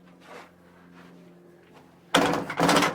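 Metal horse trailer gate swung shut with a sudden loud clanging slam near the end, after quiet shuffling and faint handling noises close by.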